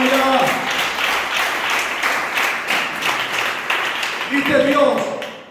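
Church congregation applauding during a Spanish-language evangelical sermon, a dense, steady wash of clapping from many hands, with voices talking and calling out over it.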